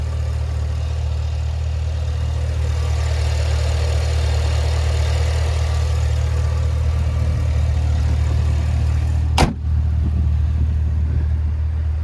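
A 6.2-liter supercharged V8 in a Cadillac Escalade V idles under an open hood with a steady, deep, low hum that holds constant throughout, broken only by one brief sharp click near the end.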